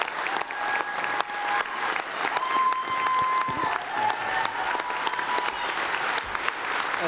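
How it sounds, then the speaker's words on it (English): A crowd at a roundtable discussion on tax reform with President Trump gives a long, steady round of applause, dense and lively throughout, with faint crowd noise mixed in. "Give him a giant round of applause."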